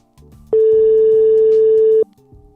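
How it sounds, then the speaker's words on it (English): A single long, loud electronic international ringing tone over a phone line, steady for about a second and a half, with faint murmuring before and after. "As you can hear, it's ringing. It's got an international ring to it."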